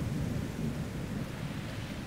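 Rainfall and thunder, heard as a steady heavy wash of rain over a deep, continuous rumble, dense and fairly loud, with no voices.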